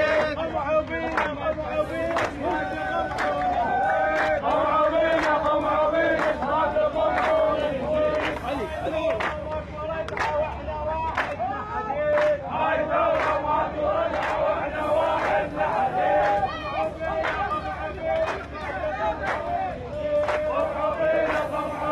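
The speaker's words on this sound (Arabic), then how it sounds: "والمتظاهرون يرددون هتافات أنهم مستمرون والقمع سيزيدهم إصرارا على التظاهر" A large crowd of protesters marches at night through the streets of Safwan in Basra, chanting slogans in loud, rhythmic unison with sharp repeated claps and shouts that stay dense and close throughout.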